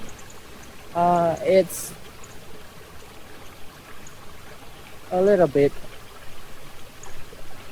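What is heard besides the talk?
natural waterfall flowing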